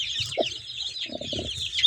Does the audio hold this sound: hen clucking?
yes